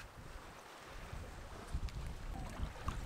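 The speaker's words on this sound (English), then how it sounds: "we sail across the Mar Menor to meet him. It takes a couple of hours with a following wind." A sailboat crossing the Mar Menor with a following wind gives a steady rush of wind and water, with low rumbling gusts and faint splashes throughout.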